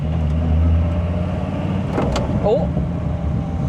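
Dodge Viper engine running steadily under load while driving on a track, a loud harsh drone in a cabin with no sound insulation, with a brief exclamation from a voice.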